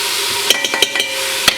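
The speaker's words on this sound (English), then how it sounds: "and we give it a quick stir" A utensil stirs tomato paste and smoked paprika in a hot pot for tomato soup, with several quick scraping clacks over a constant sizzle, close up and with no talk.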